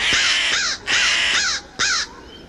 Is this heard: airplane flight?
no